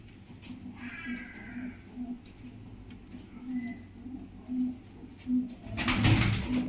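Pigeons for sale at a Bangladeshi pigeon breeder's loft give soft, repeated low cooing in a steady rhythm, with other faint bird calls above and a louder burst of noise near the end.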